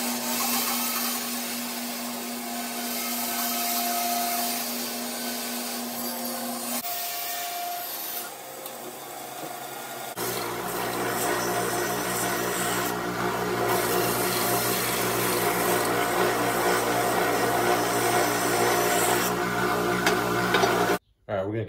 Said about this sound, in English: next we're going to take and cut off right here at the handle and cut this material here off both sides